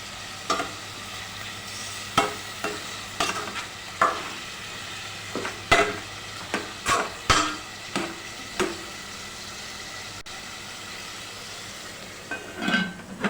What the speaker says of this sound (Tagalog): halo-haluin lang natin at hanggang sa lumambot yan